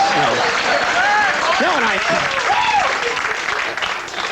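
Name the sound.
studio audience applause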